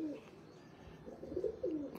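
Pigeons coo on a rooftop loft, soft repeated throaty calls that are fairly faint and grow a little fuller toward the end.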